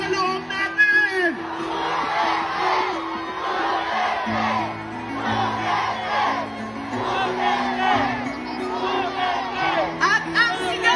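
A crowd at a street rally march in support of Duterte shouts and cheers together, a dense, loud wash of many voices with rising yells and whoops that continues throughout.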